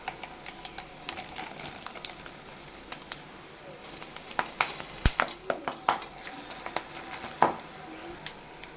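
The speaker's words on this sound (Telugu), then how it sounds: "ఇవన్నీ ఆయిల్లో ఇలా ఫ్రై చేసుకుంటే మనకు టేస్ట్ బాగా వస్తుంది" Green chillies, curry leaves, garlic, turmeric, salt and chilli powder crackle in hot oil for a cucumber chutney, with steady soft sizzling and scattered sharp pops and spits throughout.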